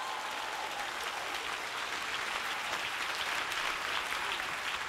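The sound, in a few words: audience applause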